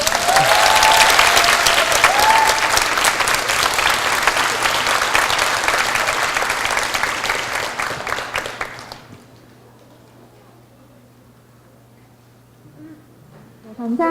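Audience applause at a debate competition awards ceremony, a dense, steady burst of clapping that fills about nine seconds before cutting off into near silence, with a faint stir near the end.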